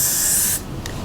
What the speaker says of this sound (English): I just always open my wigs like this and then spray the gel